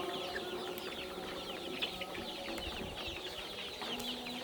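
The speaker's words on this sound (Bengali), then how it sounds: "আমার লেয়ার মুরগির বাচ্চা আজকে বয়স হয়েছে 40 দিন" Forty-day-old layer hen chicks cluck and chirp continuously at a farm, a busy overlapping chorus heard faintly and at a steady level.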